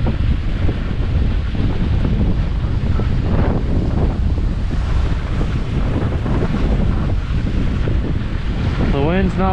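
Strong wind buffets the microphone on a winter outing, producing a loud, continuous low rumble and gusty roar, with a brief voice near the end.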